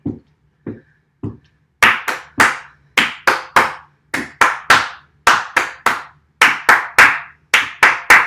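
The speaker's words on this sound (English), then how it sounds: "This is another rhythm we're going to add, clapping your hands in a triplet" Hands clap in a triplet rhythm in a dance class, sharp and close, in groups of three after a few sparse opening claps, with a faint low thudding of marching feet underneath.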